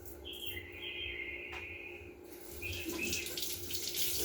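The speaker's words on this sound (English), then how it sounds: "Always rinse my veggies." Tap water runs steadily into a sink while baby bella mushrooms and an orange pepper are rinsed, a soft close splashing that grows a little louder, with no talking.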